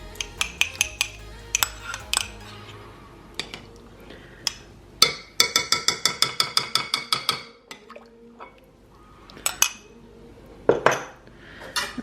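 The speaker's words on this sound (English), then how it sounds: "We're gonna stir that in." Whisk or spoon stirring bloomed gelatin and cream into yogurt culture in a bowl, bursts of rapid rhythmic clinking and scraping against the container with short pauses between.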